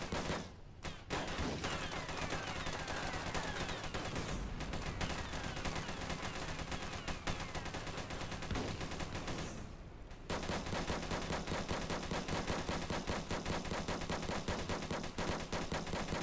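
Tank cannons and guns fire in the video game Armored Patrol, a near-continuous loud barrage of rapid gunfire broken by two short pauses, with no voices over it.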